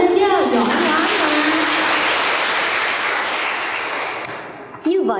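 A Buddhist nun's dharma talk audience keeps up loud, continuous applause that gradually eases off before stopping abruptly near the end, with a voice speaking briefly over the start and again after it stops.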